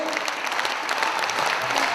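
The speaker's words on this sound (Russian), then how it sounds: "все тебе аплодируют" A concert audience claps in a steady, dense burst of applause, moderately loud and continuous over a short stretch.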